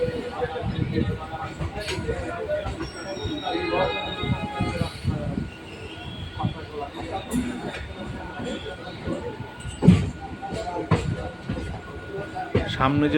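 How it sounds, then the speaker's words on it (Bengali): A Belur Math local train pulls into a busy Howrah station, its rumbling wheels and carriage clatter steady beneath crowd bustle, footsteps and chatter, with a sharper clank near the middle. "লোকাল ট্রেনটি আসছে এটি হচ্ছে বেলুর মঠ লোকাল"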